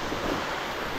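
Waterfall pouring over rocks in dense forest: a steady, broad, hissing roar of rushing water, close and continuous, with no voices.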